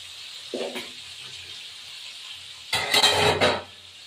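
Steady hiss of small fish frying in oil throughout, with a louder burst of sizzling and splashing near the end.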